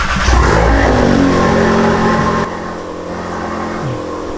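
A VW Golf R engine roars loudly on a cold start, revving hard up close before dropping abruptly to a lower, steady idle-like drone.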